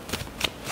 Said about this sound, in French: On va tirer nos cartes.